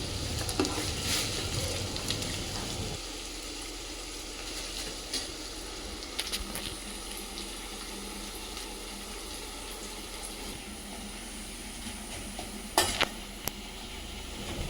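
Onions fry in a pan with a steady, close sizzle and hiss, punctuated by occasional stirring scrapes and clinks, no talk.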